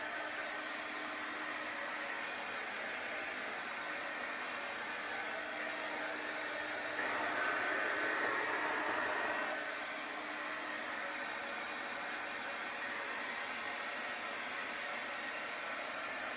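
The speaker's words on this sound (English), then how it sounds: "I'm going to dry this. It might take a little while." A hair dryer blowing steadily on mineral paint over a chalk transfer project, a continuous airy whir at moderate level that rises slightly for a few seconds mid-clip.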